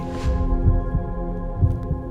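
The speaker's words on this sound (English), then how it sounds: "Thousands of cells light up as one and make your heart beat." A human heart beats with two deep, soft thumps about a second apart, sitting beneath a sustained humming drone of music.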